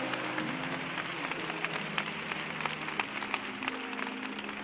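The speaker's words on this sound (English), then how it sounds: "If we got a saved house tonight, clap your hands." Church congregation clapping hands at an evening service, a steady broadband wash of applause lasting throughout, with organ or keyboard tones sustained underneath and occasional sharper claps poking out.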